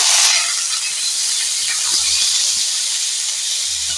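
Potato pieces go into a hot wok and burst into a loud sizzling hiss that stays strong close by and eases only slightly over several seconds, with soft low clatter beneath it.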